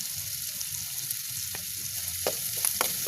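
Food toasting toward golden brown in a pan, a constant close sizzle with a few spatula scrapes and taps as it is stirred, no voices.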